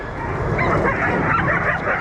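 Many husky dogs bark and yip together at a husky park near the Arctic Circle, a loud, dense, overlapping chorus close by, with a voice faintly underneath.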